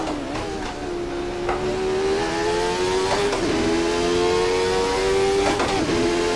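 A Formula 1 car accelerates hard around the Goodwood circuit, its high-pitched engine climbing steadily in revs with two or three abrupt upshifts. It runs loud and close throughout the clip, with no talking.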